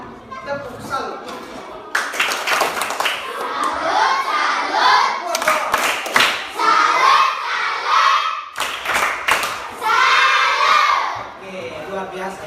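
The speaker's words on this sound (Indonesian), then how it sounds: "Kita berikan tepuk salut." Elementary school pupils in a classroom clap a rhythmic salute together, bursts of hand claps mixed with excited children's shouting and voices, loud and close throughout.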